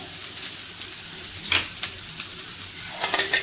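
Red chillies and curry leaves frying in hot oil for a rasam vada tempering, a steady close sizzle with a few sharp crackles and pops breaking through.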